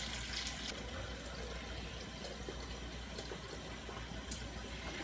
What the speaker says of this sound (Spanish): Voy a lavar bien la cuchara y la vamos a probar otra vez.